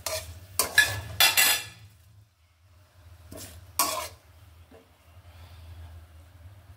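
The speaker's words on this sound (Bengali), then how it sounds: "এখন আমি এটা ভালোভাবে ভেজে নিব।" A pan of chopped onions being fried gets stirred, with bursts of scraping and clinking and a soft sizzle between them. The sounds come in short separate strokes, close and fairly loud.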